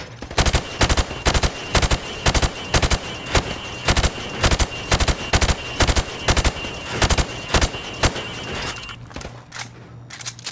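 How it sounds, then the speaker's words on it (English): Rapid rifle fire at pop-up targets on a Call of Duty Modern Warfare Remastered training range: loud, sharp shots in quick bursts and steady volleys, each crack distinct, continuing for several seconds with no talking. "I want you to shoot the targets through the wood."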